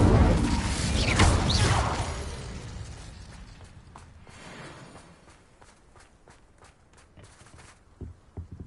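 The Incendio fire spell is cast in Hogwarts Legacy, a loud whooshing burst of flame in the first two seconds that fades out, leaving quiet footsteps and small clicks.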